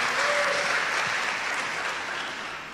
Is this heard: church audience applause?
yes